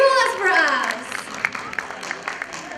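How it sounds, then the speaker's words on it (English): Delegates applaud at the Istanbul Youth Summit 2022: a spoken line opens, then scattered, moderately loud clapping from the crowd follows, uneven and thin rather than a full ovation. "Give applause for us."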